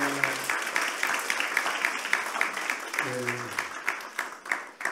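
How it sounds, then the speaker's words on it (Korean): A church congregation claps for the worship team, moderately loud and rhythmic, with a few brief vocal tones mixed in. "다시 한번 찬양단에 박수 한번 치겠습니다"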